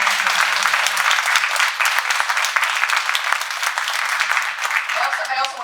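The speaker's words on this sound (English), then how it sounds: "Let's give our panel a round of applause." Steady audience applause for a Drag Queen Story Hour panel in a library hall, dense clapping sustained throughout with faint voices mixed underneath.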